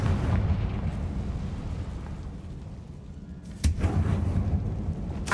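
Confringo fire spell blast in the video game Hogwarts Legacy: a deep, rumbling game soundscape surges into a sharp explosive burst about two-thirds through, followed by a boomy, crackling tail.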